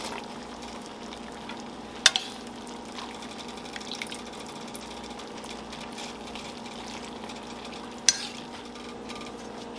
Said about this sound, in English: And just stir everything around